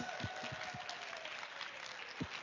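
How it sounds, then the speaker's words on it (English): Members of a dance class clap for themselves, a short, fairly faint patter of applause with a few louder individual claps, plus a faint voice in the background. "Give yourselves a round of applause."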